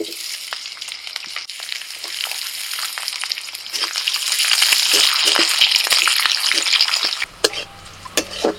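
Onion, garlic, dried red chillies, green chillies and nigella seeds frying in mustard oil in a kadai, a steady loud sizzle with scraping stirs throughout that cuts off sharply near the end.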